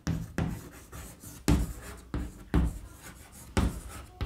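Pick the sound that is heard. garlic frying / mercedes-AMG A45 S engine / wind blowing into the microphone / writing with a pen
writing with a pen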